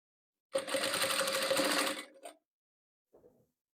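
A sewing machine stitches patchwork pieces together in one fast, steady run of about a second and a half, then stops with a brief clatter and a faint knock after a pause.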